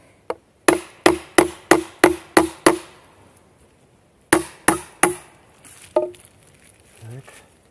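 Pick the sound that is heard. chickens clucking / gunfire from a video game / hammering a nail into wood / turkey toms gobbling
hammering a nail into wood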